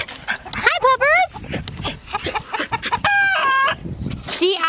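Chickens cluck and squawk in bursts on a farm while a dog whimpers and moves about nearby, with a person talking over the commotion.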